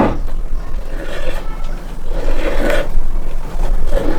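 A metal lid being sealed onto a glass jar of home-canned pork with a hand seaming key, a loud continuous grinding, rasping scrape with rhythmic swells as the key is cranked round, close up.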